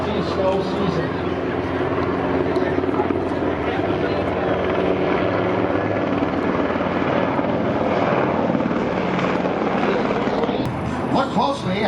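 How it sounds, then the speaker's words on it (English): A Sikorsky CH-148 Cyclone helicopter flies at an airshow, its rotor and engine roar loud and steady throughout, heard beneath a voice talking over a public address. "Look closely as the helicopter turns in just a moment to look at, or to give you a look at the underside of the helicopter."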